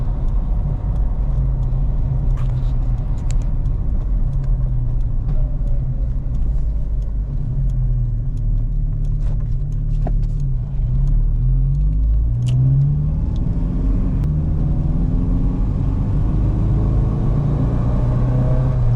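A 1987 MK2 Jetta engine, freshly swapped to a manual gearbox, holds a steady, loud, deep rumble throughout, rising into a stronger rev partway through and continuing without any talk.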